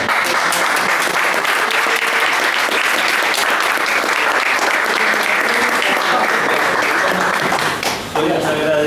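Sustained, dense applause fills a tribute event honoring the magazine "Umbral Tiempo Futuro," holding strong for about eight seconds before fading as a voice starts to talk.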